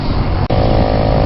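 A motorcycle engine runs at a steady, loud drone while riding on a road trip in Vietnam, with one brief dropout in the roar.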